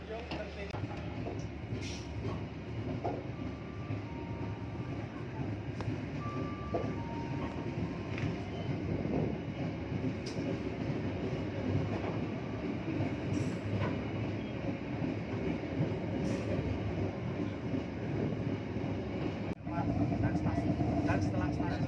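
KA Sritanjung passenger train running along the Banyuwangi–Jogja line, a steady loud rumble of wheels and carriage with faint clickety-clack throughout, heard from inside, with a voice talking over it.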